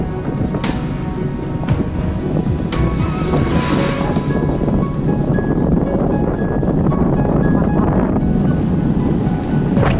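Sea waves wash loudly onto Cox's Bazar beach near Inani, with hills on one side. The surf keeps up a constant roar mixed with heavy wind buffeting against the microphone.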